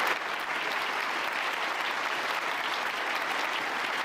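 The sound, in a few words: standing ovation applause in conference hall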